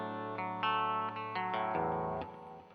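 A Danelectro electric guitar strung with flatwound strings and fitted with a Telecaster-style replacement bridge plays a short phrase of plucked notes with chorus-like shimmer, fairly quiet and alone.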